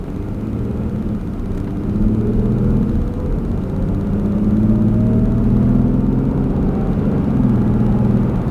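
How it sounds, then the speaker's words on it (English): A Dodge Durango V6 fitted with a K&N cold air intake drones with a steady low engine rumble heard from inside the cabin with the windows up, swelling slightly as it drives along. "driving the car normally with the windows up, you can actually hear the intake."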